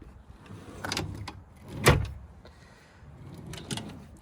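Tool drawer in a service truck sliding open, a soft rolling rumble with a louder thud midway and a few faint knocks, close and quiet.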